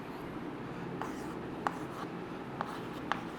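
A teacher writes on a board in a quiet classroom, with soft scratching strokes and a few sharp taps as the chalk or marker touches down, heard alone at low volume.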